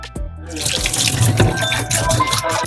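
Fish for a homemade fish curry is rinsed under a running kitchen tap, giving a continuous, close splash of water with small shifts as the fish is moved under the stream.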